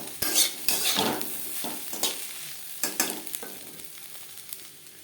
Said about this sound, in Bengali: ভেজে রাখা আগে ডিমের সাথে আলু বেশ ভালো করে মিক্স করে দেবো